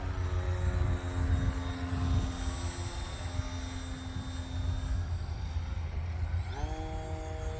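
An old-school Buzzard Bombshell RC plane flies slowly overhead, its small engine making a steady, loud buzzing drone that holds its pitch and then shifts sharply near the end as it changes speed or direction.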